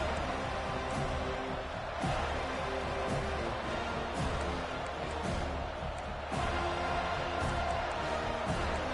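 A stadium crowd roars steadily throughout this NCAA 25 college football video game, a dense, continuous wash of noise with occasional thuds, and a commentator talks over it.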